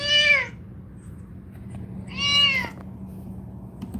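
A cat gives two distinct meows separated by a pause, each rising and falling in pitch, fairly close and loud over a low steady background hum.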